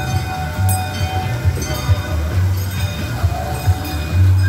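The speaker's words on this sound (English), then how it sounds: "please remain seated until the train has come to a complete stop" The Shark Voyage train ride at the Downtown Aquarium runs along its rails with a steady low rumble and periodic clunks from the wheels. A few faint clinks sound over the continuous ride noise.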